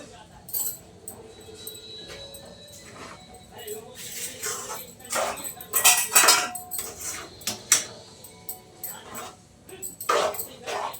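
A spoon stirs semolina into sugar syrup in a metal pan for rava laddu, making clinks and scrapes of utensil on metal against a quiet kitchen background, with a dog whimpering and yipping nearby.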